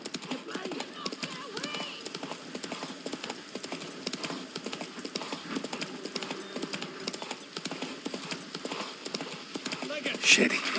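Geralt's horse Roach gallops in The Witcher 3, with rapid, rhythmic hoofbeats pounding throughout at close range, mixed with game music and ambience, and a brief louder burst near the end.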